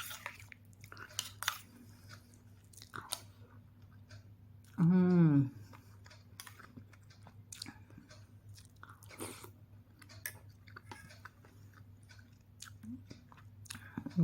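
Someone chews soft rice mixed with milk and cream, producing quiet, wet, irregular mouth clicks up close, with a brief voiced hum partway through.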